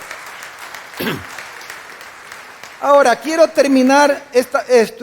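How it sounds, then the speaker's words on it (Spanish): A church congregation claps for the Lord, a short burst of applause before a man resumes preaching in Spanish over fading clapping. "Démosle un aplauso al Señor."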